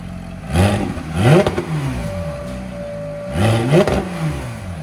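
Several sharp revs from a nearby 2018 Porsche 911 GT3 RS 4.0L flat-six with custom X-pipe and straight pipes, a quick pair then a third, each with a raspy climbing exhaust note over a steady idle, reaching about 105 decibels.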